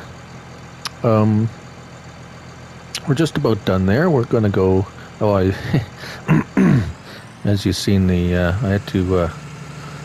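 A tractor engine in Farming Simulator 19 idles as a low, steady drone running beneath a voice, which carries on talking for most of the stretch.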